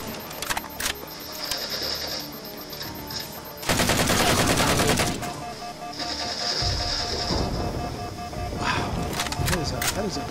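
Loud, rapid weapon fire from the Halo 4 video game, dense sustained bursts over a constant background of game noise, with one especially heavy stretch of firing midway.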